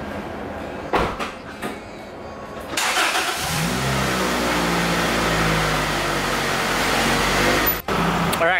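A 2000–2005 Toyota Celica GT-S engine cranks and catches after a door closes and a few clunks, then settles into a close, steady idle with light revving as the car is moved.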